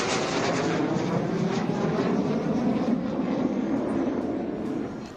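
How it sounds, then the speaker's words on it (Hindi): Indian Air Force Surya Kiran aerobatic team fighter jets in formation rehearsal over Nava Raipur, Chhattisgarh: a loud, continuous broadband jet roar that stays steady and fades slightly at the end, with no voices. "मंगलवार को रिहर्सल में वायुवीरों ने छत्तीसगढ़ के आसमान में फाइटर जेट से हाई इन द स्काई और एरोहेड जैसे फॉर्मेशन बनाए"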